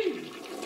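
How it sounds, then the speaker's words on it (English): A cartoon toilet flush from an iPad app, a short gurgling whoosh of water that starts loud and quickly drains away. "Swipe the toilet and Jerry gets a dose of hot water in the shower"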